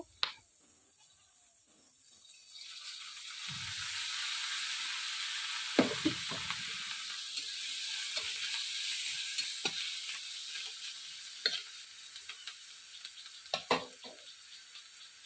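Chilies fry in a little oil, a hissing sizzle that swells after a couple of seconds and holds steady, close by, punctuated by sharp pops and clatters.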